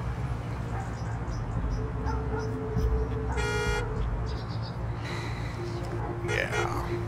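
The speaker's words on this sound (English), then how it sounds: "y'all can honk all you want to." Car horns honk in a traffic backup. Two separate blasts, one short and one longer, cut through a constant low rumble of road noise while someone talks over them.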